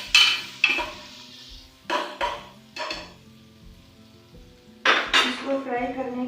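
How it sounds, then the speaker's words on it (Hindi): Garlic ginger paste frying with onions in a pot for camel mince, heard as loud bursts of spattering sizzle and clattering stirs between quieter stretches of low crackle. "सबसे पहले हम लहसुन अदरक का पेस्ट इसमें ऐड करेंगे। उसको थोड़ा सा फ्राई"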